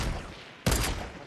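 In the battle royale game Fortnite, a single sharp, loud gunshot cracks out close by after a moment of quiet rumble, then trails off into a brief echo.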